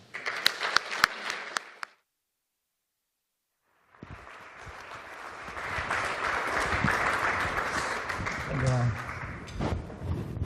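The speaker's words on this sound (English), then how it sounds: "welcome to the podium with a round, loud applause." Claps briefly at the start, then a pause of silence, then applause from a crowd at a finance minister's event swelling into a loud, sustained round with some voices underneath.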